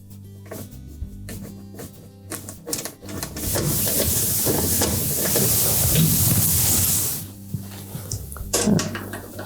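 A powered screwdriver driving screws back into the back panel of a Whirlpool washer during a repair, with buzzing runs in short bursts, one long steady whir in the middle, and handling clatter between.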